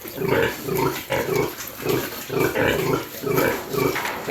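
Piglets grunt while suckling from the sow, a steady run of close, rhythmic low grunts repeating about twice a second, with no talk.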